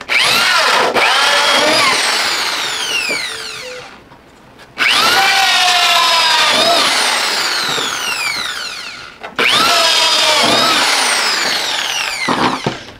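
A power drill bores holes for a homemade electricity-free air conditioner, whining loudly in three long bursts with rising and falling pitch, separated by brief pauses.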